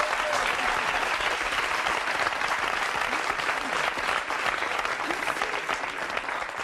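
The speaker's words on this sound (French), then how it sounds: "Je crois qu'on peut les applaudir très très fort." Studio audience at a French television talk show claps loudly and steadily, a dense, sustained applause filling the whole stretch with no speech over it.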